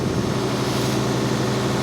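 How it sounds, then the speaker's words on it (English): A large tractor engine runs inside a metal building, a loud, steady low rumble that fills the space with no pauses or changes. "this is like the largest engine we have and in a metal building,"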